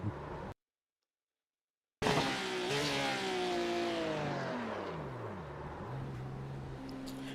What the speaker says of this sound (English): Does sound nice, this car, though.